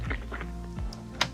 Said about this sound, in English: This is the man chewing.